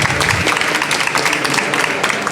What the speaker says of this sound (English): Please give them a big applause and welcome to Nestation.